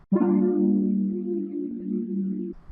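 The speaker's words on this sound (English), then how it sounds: "With no effects, those chords sound like this." A dry synth chord with no effects, made in FL Studio, swells in abruptly and sustains evenly for about two and a half seconds before cutting off, alone and fairly quiet.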